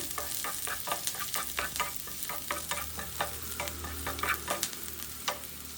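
Broccoli and mixed vegetables stir frying in a pan, with a steady sizzle broken by repeated sharp scraping and stirring strokes of a spatula across the pan, close and fairly loud, with no talking.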